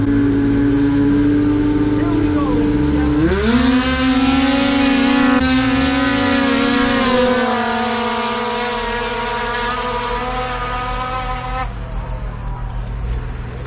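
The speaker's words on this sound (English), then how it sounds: "Unbelievable the horsepower in some of these sleds." Modified open-class snowmobile engines at a drag race give a loud, steady, high-revving roar that surges upward in pitch a few seconds in, holds strong, then eases back slightly near the end.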